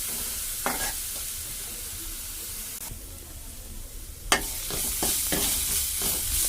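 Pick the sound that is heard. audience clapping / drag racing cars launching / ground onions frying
ground onions frying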